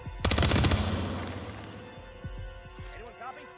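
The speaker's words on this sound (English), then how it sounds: "Anyone copy? We got gunshots." A loud, rapid burst of automatic gunfire with a few sharp single shots rings out in Hitman: World of Assassination, then fades into a lingering echo while faint voice-like sounds follow.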